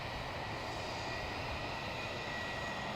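Porter 280 begins its takeoff, a steady, fairly distant engine roar with faint whining tones, sustained without pause.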